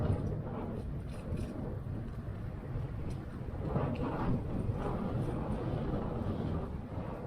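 Strong wind buffets the microphone as a cyclist rides along the Vancouver seawall in autumn. It is a steady, low, rumbling roar that stays continuous and fairly loud throughout, and no one speaks over it.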